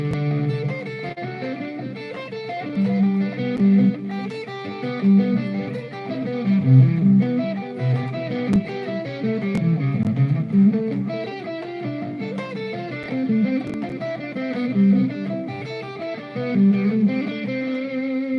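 Electric guitar picks out chord tones in a steady flowing line, with a processed, slightly distorted effects-unit tone, played alone at even moderate loudness during a live jam and lesson.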